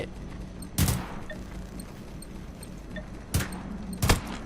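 Gold AK rifle firing in the video game Generation Zero: two or three short bursts of gunfire, one near the start and a pair toward the end, separated by quiet ambient game noise.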